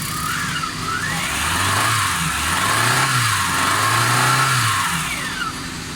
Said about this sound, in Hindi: गाड़ी माशाल्लाह स्टार्ट है, साउंड बिल्कुल ज़बरदस्त है